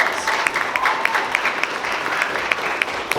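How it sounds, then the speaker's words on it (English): Sustained applause from a crowd at a steampunk festival fashion show and cosplay contest, dense steady clapping with a few sharper individual claps standing out, fairly loud and close. "Another round of applause."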